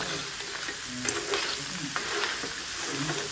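Onions, garlic and ginger frying in a large pot for a Creole-style paella in Madagascar, a steady close sizzle with occasional scrapes and clinks of stirring, no voices over it.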